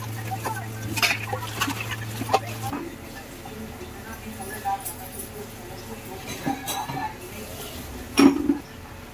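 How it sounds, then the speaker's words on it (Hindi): Pots, dishes and utensils are washed at a home kitchen sink, giving scattered clinks and scrapes at moderate distance, with occasional louder knocks under a steady low hum and intermittent speech. "इन्हें धो देती हूँ फटाफट से।"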